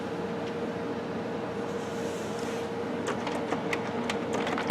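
A brand-new Canon Maxify inkjet printer runs sheets through with a steady mechanical hum, followed by a quick series of clicking, ratcheting paper-feed ticks close by.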